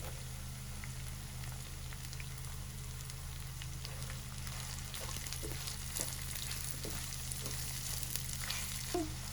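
Steady sizzling of half a kilo of chopped onions frying in a pan, with occasional soft stirring clicks over a constant low hum.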